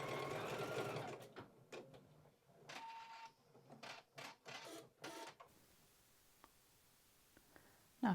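An embroidery machine stitches little flowers in greens, a fast mechanical whirring and clicking in short runs that stop and start, then fall quiet near the end.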